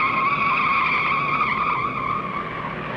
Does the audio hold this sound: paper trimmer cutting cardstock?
no